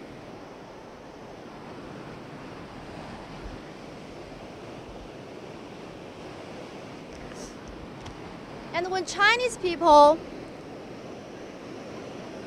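A steady roar from Hukou Waterfall on the Yellow River in winter fills the background, with a voice speaking briefly over it near the end.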